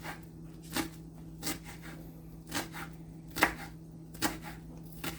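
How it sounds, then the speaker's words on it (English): A knife chops rolled-up cilantro on a board in a home kitchen: about seven crisp, evenly spaced cuts, close and clear, with no talking. "I'm just taking my cilantro, rolling it up, and I'm going to take a knife and just cut it."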